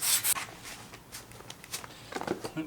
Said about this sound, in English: We just want to really scuff it up that way we have something to stick to.